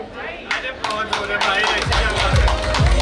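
Clapping from a family audience at a child's birthday party in Allahabad: rapid, dense hand claps that build over a few seconds and keep going steadily, with voices talking over them.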